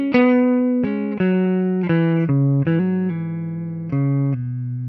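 Sustained clean electric guitar notes and chords from a 2021 Gibson Peter Frampton "Phenix" Les Paul Custom with Frampton wiring, each struck then ringing out with long sustain, played alone without talk.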